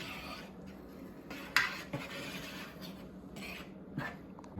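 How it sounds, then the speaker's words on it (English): Cornmeal pudding batter is mixed in a pan with a utensil, producing soft scraping and scattered clinks against the metal, close and quiet, with a couple of sharper knocks and no talking. "I'm just give it the final mixing before put it in the oven"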